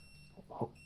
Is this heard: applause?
no